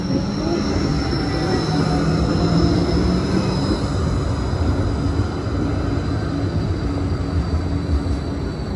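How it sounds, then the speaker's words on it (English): A Gold Coast G:Link light-rail tram pulls into a station, a continuous loud low rumble and rolling hum with faint high squeal tones, steady throughout with no talk. "the tram that's arriving now is the one I'm getting on"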